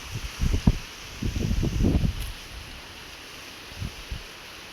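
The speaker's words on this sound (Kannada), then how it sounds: "ಫುಲ್ಲು ಗಾಳಿ" Strong gusts of wind come in several rough bursts, buffeting close by with quieter lulls between them during a heavy-rain day, with no talk.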